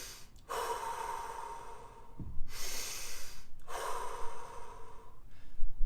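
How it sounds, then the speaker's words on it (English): Recovery breathing between workout rounds: quick, forceful nasal inhales alternate with long, slow exhales through the mouth, close and clear with no talking. "Then, as quickly as I can, I'm getting big breaths in the nose."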